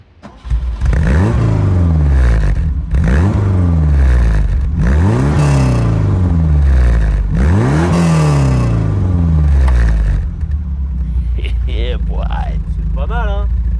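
A BMW 1602 fitted with an aftermarket exhaust line starts up and is revved hard four times in a steady rhythm, each blip climbing and falling back, before it drops to a steady idle close by.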